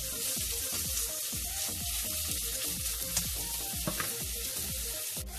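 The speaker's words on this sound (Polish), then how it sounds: "Boczek z cebulką nam się smaży," Chopped bacon and onion frying together in a pan for borscht, a continuous crackling sizzle with steady spitting pops at close range, no voices over it.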